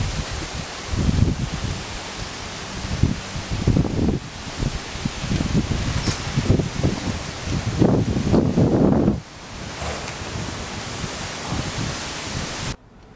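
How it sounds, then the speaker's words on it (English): Strong wind blows steadily in an outdoor setting near palm trees, a loud broadband rush with gusty surges that builds before easing near the end, with no talking. "Wind's blowing pretty good."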